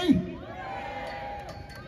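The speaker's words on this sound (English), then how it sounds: "that was a good round of applause" A crowd at a rally cheering, whooping and calling out, with one loud yell at the start, then a sustained roar of voices at moderate distance.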